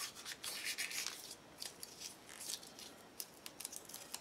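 Small pieces of paper cut from a book are crumpled by hand, giving soft, faint crinkles and rustles in irregular bursts with quiet gaps between them.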